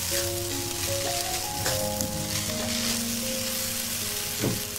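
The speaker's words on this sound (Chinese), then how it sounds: "把鸡蛋放进来，翻炒一下。" Eggs with chives being stir-fried in a hotel kitchen wok, a loud, close, continuous sizzle with occasional scraping stirs and a steady hum underneath.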